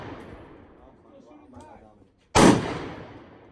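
An AR rifle fires a single loud, sharp gunshot at an outdoor shooting range, its report ringing out and fading after faint, indistinct talk nearby.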